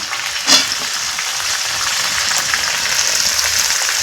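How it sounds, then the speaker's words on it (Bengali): Onions and garlic fry in a pan with a steady, loud sizzle throughout, broken by one brief stirring bump early on, with no voices. "পেঁয়াজটাকে লাল করে ভেজে নেবে চাইলে রসুনটাও একসাথে দিয়ে দেওয়া যেতে পারে আমি দিয়েই দিলাম"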